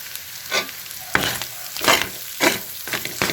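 Sautéing in a pan after a splash of fish sauce, close bursts of sizzling and scraping stirs that swell and fade in an uneven rhythm, with no talk.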